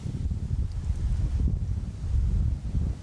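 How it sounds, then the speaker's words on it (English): Strong wind buffeting outdoors, a loud, steady low roar of gusts blowing against the microphone with faint rustling and no voices. "That wind is crazy."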